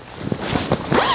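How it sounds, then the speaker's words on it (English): Zipper on a zip-up lounge sweatshirt being pulled, a few quick zipping strokes building to a longer, smoother run near the end, close and fairly loud with no talking. "It has a really nice smooth zipper on it."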